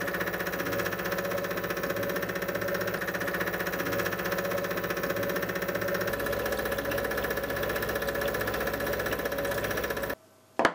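A milling machine runs a fly cutter across the top of a small metal stop, a loud, steady, rhythmic machining drone that holds for about ten seconds and then cuts off abruptly, with no talk.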